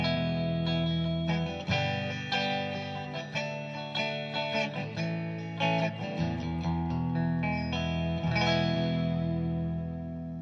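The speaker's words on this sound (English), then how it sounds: "The Marshall amp by itself is going to sound like this." Electric guitar played through a Marshall amp, with a Fender Johnny Marr Jaguar-style partscaster: loud, continuous distorted chords and single-note lines, strummed in a steady rhythm with a ringing decay at the end, no talking.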